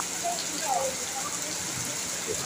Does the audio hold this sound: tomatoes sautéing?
no